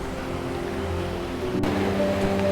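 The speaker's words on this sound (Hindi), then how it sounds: "ये देखो ऊपर से वाटरफॉल का पानी आ रहा है पूरा नीचे ऐसे, बेलापुर का वाटरफॉल" The Belapur waterfall sends water rushing down in heavy monsoon rain, a steady, dense roar of falling water filling the whole clip at close range, with a faint low tone running underneath and no voices.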